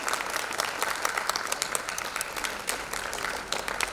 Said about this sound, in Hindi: हम बहुत तालियों से रिजुल को भी बधाई दें